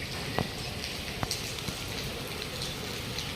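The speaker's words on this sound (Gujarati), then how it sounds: "વરસાદ જોવો કેવો આવે છે" Rain falling outdoors in a steady, fairly faint hiss of patter, broken by a few sharp drop-like ticks and taps, with no talking.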